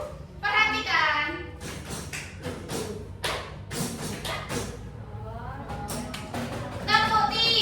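A class of children claps the 'tepuk 3' pattern in a classroom, sharp broadband claps in uneven clusters mixed with children's chatter and shouting voices throughout.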